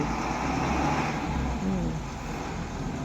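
A long, large vehicle labours through a tight manoeuvre on a road, its engine a steady low rumble mixed with traffic noise, with faint background voices.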